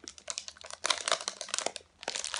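Plastic seal peeling and crinkling off LOL Surprise toy packaging: close, busy crackling in bursts with a short pause near the end.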